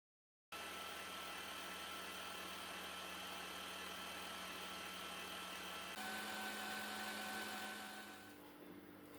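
A stand mixer whisks chocolate ganache, running as a steady, faint motor hum that steps up in speed partway through before tapering near the end, with no talk.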